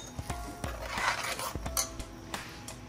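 Utensil scraping and clinking in a pan as spices and herbs are stirred together for egg curry, with a string of light, close metallic taps and scrapes.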